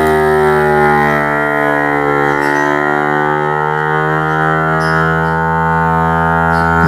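A Grabo vacuum lifter's pump gripping plywood gives off a steady, loud, droning hum with a buzzy tonal whine that holds almost unchanged throughout, with faint clicks in the background.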